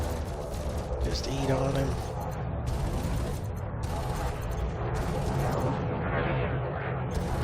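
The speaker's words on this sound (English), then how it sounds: "the Gauss cannon she's shooting is a fixed cannon" Gauss cannon fire in World of Warships Legends, heavy rumbling booms and mechanical clatter piling up continuously beneath someone talking over the game.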